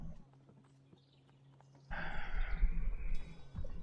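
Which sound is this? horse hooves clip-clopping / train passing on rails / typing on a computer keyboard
horse hooves clip-clopping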